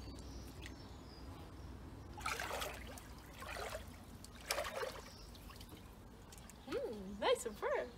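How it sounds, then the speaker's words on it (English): Someone wading through cold water in a new backyard pool, with soft splashing and trickling sloshes in short bursts, faint and close, while a person speaks briefly. "the only thing I don't recommend is the water that I'm now going to trudge through"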